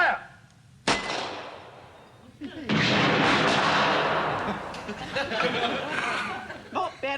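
Rifle volley of several shots fired together by a small Home Guard squad on a firing range, a sharp crack near the one-second mark, then a sustained loud roar and rumble fading under laughter and chatter.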